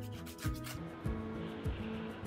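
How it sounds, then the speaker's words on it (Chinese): Sandpaper rubs along the edge of a small handmade wooden phone stand in rhythmic, close strokes that repeat roughly every half second, each a brief scratchy swipe. "我就用个砂纸去修改一下它"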